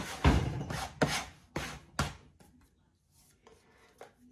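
A dough scraper works sticky pandesal dough on a counter in a handful of firm, spaced scraping strokes, close and fairly quiet, followed by softer faint rubbing.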